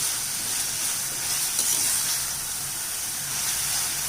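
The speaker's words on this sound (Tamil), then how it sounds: "இந்த கொத்தமல்லி நல்லா கொதித்து மேலே எண்ணெய் பிரிய ஆரம்பிக்குது" Coriander paste sautéing in oil in a pan, a steady close hiss and sizzle with fine crackling throughout, no talking.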